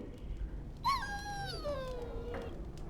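In Dragon Age, a dog whimpers with one drawn-out, pitched whine that rises briefly and then slides downward, fairly close and clear over a faint background hum.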